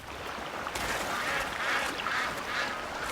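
Ducks in the video game Crimson Desert quack and honk several times in a loose series over a background water rush, moderately close, with no talk.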